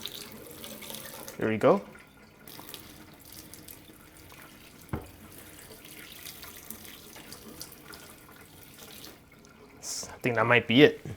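Steady water pouring and splashing onto a smartphone throughout, with a person speaking briefly near the start and end.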